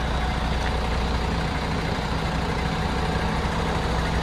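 A MAN grain truck, converted from a container carrier to a dump truck, idles steadily while its dump body is raised, a continuous low diesel rumble with a broad mechanical hum and no talk.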